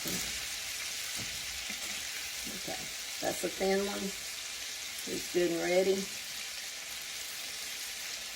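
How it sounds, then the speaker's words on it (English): Steady hissing sizzle of chicken strips deep frying in hot oil, while a person speaks briefly over it. "I like deep frying."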